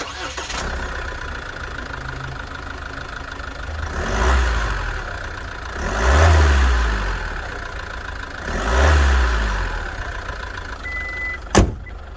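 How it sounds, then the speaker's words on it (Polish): A SsangYong Rexton G4 with a 2.2 turbodiesel inline four runs steadily at idle, swelling in three slow revs before settling, with a sharp click near the end and no one talking. "Tak ten diesel brzmi."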